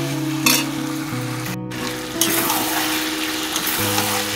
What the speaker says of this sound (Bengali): আমি এইভাবে অবরত নাড়তে থাকছি।